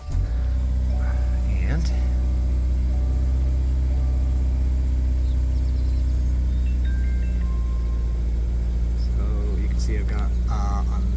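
A 2026 Subaru Forester's engine runs steadily at idle, a constant low hum held close and loud throughout, with faint clicks and beeps from the cabin on top.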